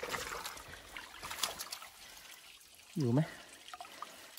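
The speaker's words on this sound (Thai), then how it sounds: "เราก็ดูดแข่งกับน้ำไหลไปเรื่อยครับ" Water trickles faintly through a small stream that is being pumped dry for fishing, while people talk over it.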